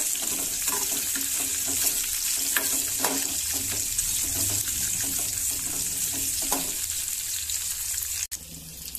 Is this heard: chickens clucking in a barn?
no